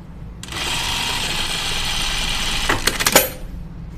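A sewing machine runs one steady burst of stitching while hemming a pair of slacks, whirring for about two seconds before slowing to a few uneven final stitches, close by with no voices.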